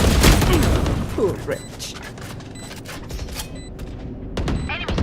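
Gunfire and weapon handling in the shooter game Valorant, with a few sharp shots and mechanical clicks and creaks under in-game voice lines, fairly close and busy.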